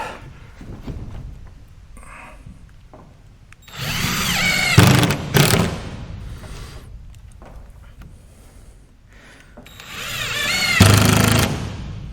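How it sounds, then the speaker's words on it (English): A power drill drives screws into OSB wall panels inside a metal building, giving two loud, close bursts of whirring motor and grinding screw bite. Quieter handling noise and shuffling fill the gaps between them. "I can just start screwing the OSB up."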